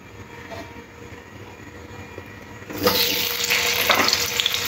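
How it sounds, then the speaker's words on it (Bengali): Potatoes dropped into hot oil and frying, with a quiet lead-in and then a sudden loud, broad sizzle that holds steady, close up, with no voices. "তেলটা গরম হয়ে গেলে আলুগুলো তেলের মধ্যে ছেড়ে দিন"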